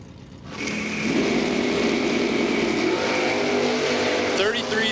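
Drag race cars, including a silver Chevelle, launching at a racetrack: engines surge from idle into a loud sustained high-pitched roar that holds steady, with a commentator talking over it.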